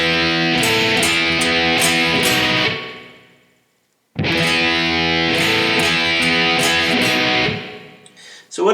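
A distorted electric guitar plays a riff, loud and close, in two choppy, rhythmic phrases with a silent pause between them.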